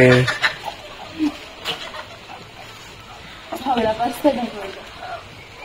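Hens cluck in short, uneven bursts, a few near the start and a livelier cluster toward the end, over a quiet outdoor background.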